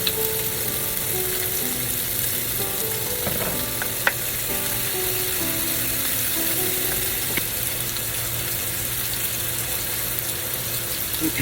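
Garlic fries in a pan with a loud, steady hiss, close and constant, broken by a few faint clinks of stirring and no talk.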